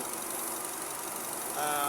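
A Nissan Almera air-conditioning compressor with no refrigerant engages over the engine's steady idle, the running sound thickening suddenly toward the end into a louder, denser whir.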